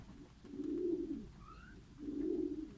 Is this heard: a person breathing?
no